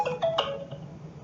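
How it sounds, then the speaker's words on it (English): Mobile phone ringing, a couple of short bright tonal chirps in quick succession, moderately loud and close, fading into quiet room tone with no talking. "that was my phone"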